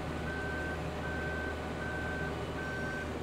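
A farm vehicle in Farming Simulator 15 sounds its reversing alarm, four steady evenly spaced beeps over a constant engine drone, clear and fairly close.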